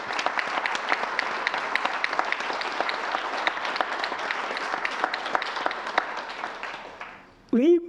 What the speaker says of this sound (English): Please join me to say thank you by applauding